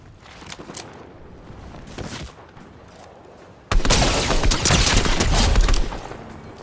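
Sustained automatic gunfire in Fortnite, scattered shots at first and then a loud, dense burst of rapid fire lasting a couple of seconds before easing off.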